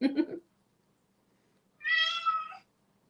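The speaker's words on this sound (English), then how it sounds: "Oh, that's my cat." A house cat meows close by: a brief first call, then after a pause a clear, drawn-out tonal meow of about a second, with near silence in between.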